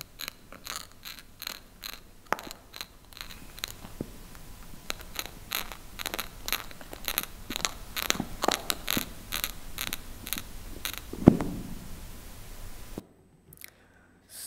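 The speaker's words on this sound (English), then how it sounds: "a scratching movement over the wood fibers" Bark beetle (Ips typographus) scratching across wood fibers, heard as dense bursts of small dry clicks grouped in rhythmic packets, close and fairly quiet, ending in near silence.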